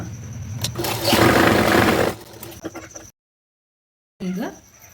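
A sewing machine runs in a steady burst while stitching a hook patti strip, then stops, a short silence follows, and a brief whir resumes near the end.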